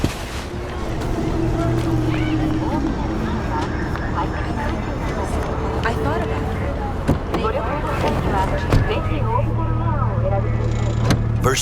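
A factory-new car in a video game pulling away, its engine rumbling steadily under people talking and music.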